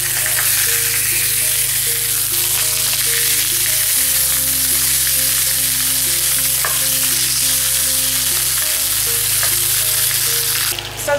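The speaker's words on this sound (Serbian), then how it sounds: "sada spuštamo rebra i pržimo ih povremeno okretajući dok ne porumene sa svih strana" Pork ribs frying in hot oil in a pan, a loud, continuous sizzle and crackle with occasional light scraping as the ribs are turned, heard close up under a steady low hum, with no voices.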